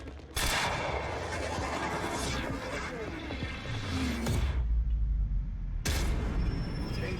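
The player's own gun fires in a video game with loud, close, dense bursts, broken by a few sharp separate blasts and a low rumble.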